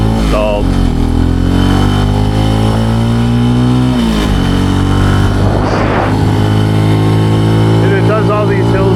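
Small Benelli TNT135 motorcycle engine pulling up inclines, loud and close, its buzzy pitch climbing through each gear and dipping briefly at a shift before revving again.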